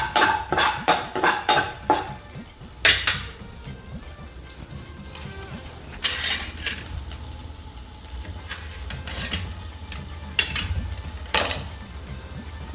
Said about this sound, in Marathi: कांद्याला आपण चांगलं असं परतून घेऊया.